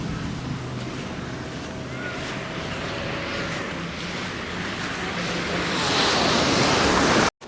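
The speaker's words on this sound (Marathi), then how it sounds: "मस्त समुद्राच्या लाटा येतात थोड्या थोड्या." Sea waves wash steadily onto Bogmalo beach in Goa, a continuous broadband surf roar that builds slightly louder toward the end, with some wind noise and no voices.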